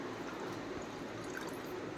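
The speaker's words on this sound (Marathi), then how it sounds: "आणि पाणी टाकायचं, भरपूर टाकायचं" Water poured generously into a pan for cooking Maggi noodles, a faint, steady splashing trickle heard alone for a couple of seconds.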